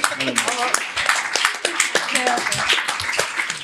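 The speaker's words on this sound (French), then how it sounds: "Je vais applaudir." One person claps hands in a string of quick, sharp claps, mixed in with people talking on a business podcast.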